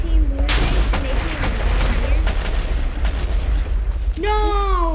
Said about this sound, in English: Oh my gosh, there's so much explosion.